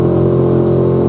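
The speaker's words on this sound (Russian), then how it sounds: "Но вот завелся мотор и идет" Boat outboard motor running steadily at low revs on a river trip in Komi, a continuous close mid-pitched engine drone with no talk.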